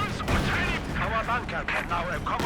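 Panther tank cannon fire and battlefield explosions in Company of Heroes 2, with dense booms and rumbling gunfire running continuously while a commentator talks over the action.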